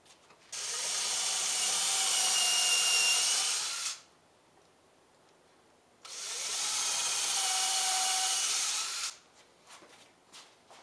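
Power drill driving screws into a 4x4 wooden leg, two loud, sustained whirring runs of about three seconds each with a quiet gap between.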